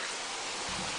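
Water running into a bathtub at bath time for a child, a steady broad hiss of flowing water that grows fuller partway through, with no voices.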